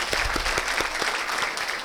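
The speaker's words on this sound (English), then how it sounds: "Give you a big round of applause to yourself" Audience applause, a dense wash of many hands clapping at once with a few sharp individual claps standing out, steady throughout.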